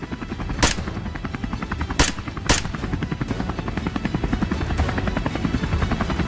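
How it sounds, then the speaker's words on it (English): A helicopter's rotor thumps in a rapid steady pulse as it circles overhead during a wild boar hunt, loud and continuous, with a few sharp gunshot bangs cutting through. "The helicopter kept circling,"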